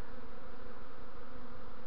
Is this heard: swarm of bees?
yes